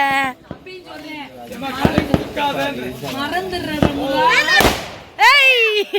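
Sharp Diwali firecracker pops crackle in quick bursts while people talk and shout excitedly nearby, one loud bang standing out near the end.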